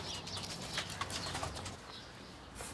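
A homing pigeon, a racing champion, arrives outdoors with a soft, fluttering flap of wings. Brief bursts of wingbeats stand out over steady background noise, fairly close and moderately quiet, with no talking.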